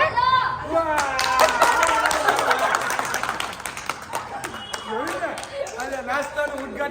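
A group of people claps hands in a fast, busy patter during a garba class, mixed with excited voices talking and calling out over the rhythmic clapping.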